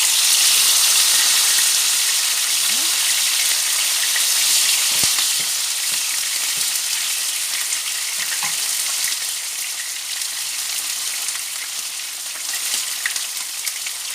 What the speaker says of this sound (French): On va cuire notre dorade.